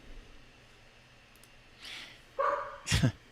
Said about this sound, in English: Our dog has not barked this much since.